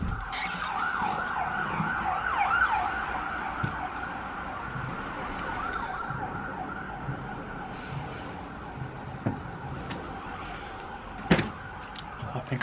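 An emergency vehicle siren wails outside in a steady cycling tone, moderately distant and gradually fading, with faint street noise and a few sharp knocks near the end.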